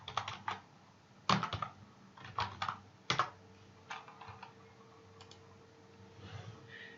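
Keys tapped on a computer keyboard in short, uneven bursts of crisp clicks separated by brief pauses, close and clear against a quiet room with no talking.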